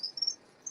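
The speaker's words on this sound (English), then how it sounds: "These are crickets here," Crickets chirping in a breeding enclosure in a reptile room, short high-pitched bursts, a quick cluster followed by one more chirp, faint and close against a quiet background.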